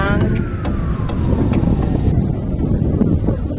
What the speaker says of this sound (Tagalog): Mahangin pala siya